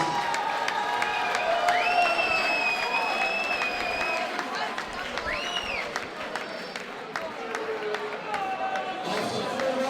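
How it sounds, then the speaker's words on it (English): Spectators at a White Collar Boxing London welterweight bout applaud and cheer both fighters after the contest, a moderate crowd roar with clapping and shouts, over which a voice carries through the hall. "Ladies and gentlemen, can we have a round of applause for both fighters after an excellent contest, please?"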